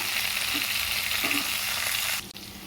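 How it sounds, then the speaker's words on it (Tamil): Garlic cloves, curry leaves, green chillies and shallots fry in hot oil for a tamarind curry, giving a steady, close, loud sizzle that runs almost unbroken before cutting off sharply near the end. "முழுசாக பூண்டுங்க, கருவேப்பிலை, பச்சை மிளகாய் இது மூணையும் போட்டுக்கலாம்"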